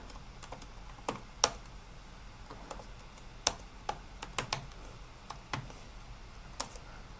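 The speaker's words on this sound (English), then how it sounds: "I'm typing it out." Soft, irregular keystrokes clack on a computer keyboard close by, a scattered rhythm of clicks with a few louder taps and no talking.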